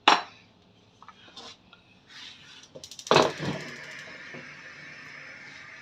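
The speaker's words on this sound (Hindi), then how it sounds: "अब दोबारा हम इसको चूल्हे के ऊपर रखते हैं।" A metal pan set back down on a kitchen stove while making raw mango sharbat, with a sharp clank at the start, small clinks and scrapes, then a louder metallic clatter that rings out and fades.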